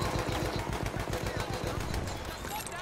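Rapid automatic gunfire in the video game Battlefield 1 during a Conquest match, a dense continuous rattle of shots, loud and sustained throughout.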